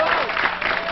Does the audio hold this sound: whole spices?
no